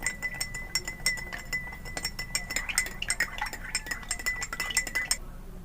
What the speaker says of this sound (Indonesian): diaduk hingga merata sampai gula tersebut